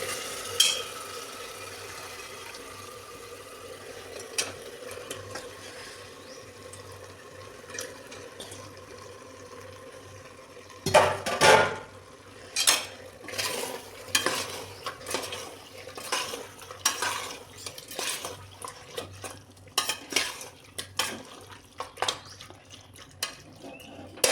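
Mutton pieces hit a pan of fried masala and get stirred, with clanking spoon-on-pan scrapes and clatter growing busier after the midpoint, over a low steady sizzle, close and moderately loud.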